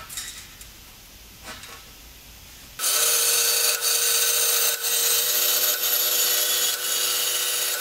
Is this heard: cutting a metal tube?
yes